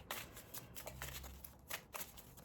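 Tarot cards being shuffled by hand, a soft papery riffling and sliding that comes in uneven bursts, quiet and close with no talking.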